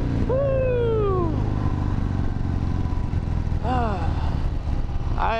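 A Harley-Davidson Fat Bob motorcycle runs at speed with a steady loud engine drone, and two rising-then-falling whistling sweeps, likely wind or passing traffic, cut through near the start and later.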